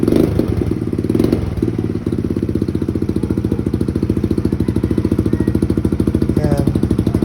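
Motorcycle fitted with a new open muffler made in Indonesia, idling close up with a loud, rapid, even popping exhaust beat, with a short blip of throttle near the start.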